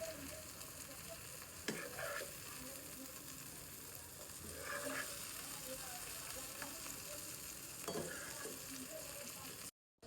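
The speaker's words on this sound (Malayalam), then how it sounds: "ടൊമാറ്റോ 2 വശവും നല്ലപോലെ ഫ്രൈ ആയിട്ടുണ്ട്." Tomatoes fry in a pan for a Thattukada-style tomato fry, giving a soft, continuous sizzle broken by a few sharp scrapes of stirring.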